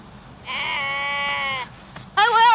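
Sheep bleat in a flock being counted, two distinct calls: a long wavering bleat followed after a pause by a shorter, louder one, close by with light background noise.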